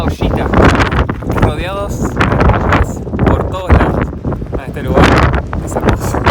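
Strong wind buffets the microphone at the Paso Los Libertadores mountain border crossing into Chile, a loud continuous roar with gusty swells, heard beneath someone talking throughout.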